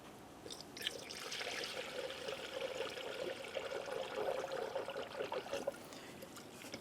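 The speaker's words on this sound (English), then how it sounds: "continue filling the cooling system until you see no more air bubbles making their way out of your funnel" Engine coolant trickles and gurgles steadily through a funnel into the cooling system of a 2009–2010 Pontiac Vibe, a close, quiet, continuous pour with small bubbling splashes.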